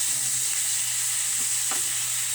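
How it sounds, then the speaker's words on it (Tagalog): Chicken feet sauté in a hot pan with a steady, close, even sizzle and a faint background hum, and no one speaks. "Pagkatapos masaute ang lagay na natin si chicken feet."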